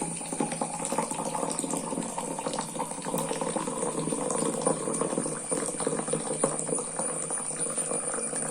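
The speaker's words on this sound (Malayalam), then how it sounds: "ഇനി ഇതിലേക്ക് നമ്മൾ കുറച്ച് ചൂടുവെള്ളം ഒഴിക്കണം." Hot water poured into a glass holding blue butterfly pea flowers, a steady close hissing, bubbling stream that runs evenly for about eight seconds with no talk.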